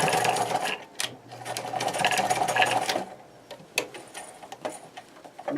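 Sewing machine stitching across a shirt-made skirt to hold it flat, a steady close mechanical whir running for about three seconds, then stopping, followed by a few short bursts and clicks.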